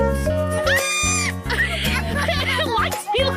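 Goat bleats come in a quick series of wavering, nasal cries, loud and close, run together with little gap between calls.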